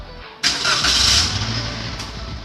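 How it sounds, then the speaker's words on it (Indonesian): A car engine cranks and catches abruptly, settling into a steady, loud idle close by during emission control system servicing; no talking. "Kita hidupkan mesin."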